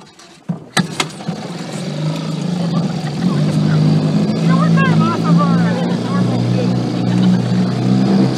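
A 1960 Johnson Seahorse JW16 3 hp outboard motor idling and running steadily after a few sharp knocks at the start, with a person talking over the engine hum.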